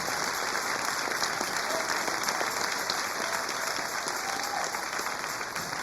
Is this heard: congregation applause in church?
yes